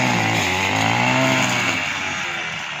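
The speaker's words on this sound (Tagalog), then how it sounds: "Siya ay nag-grass cutter dyan." A grass cutter runs outdoors in a house yard, its small engine giving a steady buzzing whine with slight pitch wavers, close and loud throughout.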